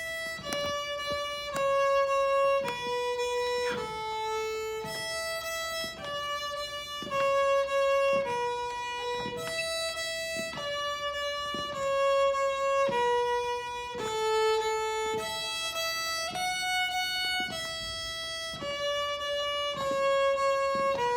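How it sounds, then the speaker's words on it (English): Solo violin plays Twinkle Twinkle Little Star in a smooth classical manner, with clear, evenly paced sustained notes and gentle bow changes, moderately loud and unaccompanied. "were going to play Twinkle like a classical violin player, it might sound a bit like this"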